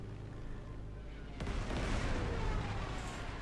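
A bombing strike in the wartime strategy game Panzer Corps 2 lands as a sudden heavy blast that rolls on into a rumbling, crackling roar, following a quiet stretch with someone speaking faintly.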